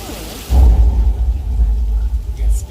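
A simulated rainstorm effect on a Universal Studios soundstage: after a brief quieter lead-in, loud, steady rushing rain with deep rumbling low end sets in and holds continuously, close and enveloping.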